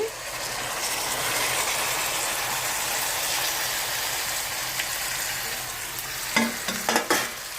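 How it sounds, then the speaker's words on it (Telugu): Bottle gourd pieces dropped into hot oil with spices give a loud, continuous, close frying hiss, with a few sharp clatters of stirring near the end. "ఆనగాయ ముక్కలు వేసేసుకుందాము ఆయిల్తో పాటు వేసేసుకుందామండి"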